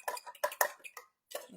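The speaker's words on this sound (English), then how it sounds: "So I mixed the eggs." Three eggs are whisked with a utensil in a bowl during a home cooking session, giving a quick run of bright clinks and scrapes that pause, then return once more.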